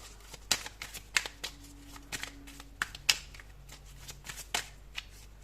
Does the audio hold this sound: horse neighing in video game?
no